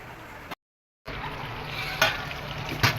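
Chicken liver sizzling as it fries in potato masala with red and green ground paste, a steady hiss broken by a short silent gap and two brief louder flares of stirring or spattering.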